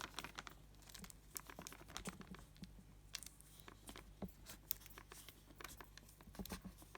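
Cardboard cut by hand for a DIY wall sconce, cutting around a round section in small pieces: quiet, irregular crinkling and snipping sounds close by, with no talking.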